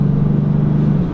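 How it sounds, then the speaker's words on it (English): A 2014 Dodge Challenger R/T engine drones loud and steady after a downshift, a low, even rumble heard from inside the muscle car with no talking. "I'm gonna go ahead and downshift here and get on it."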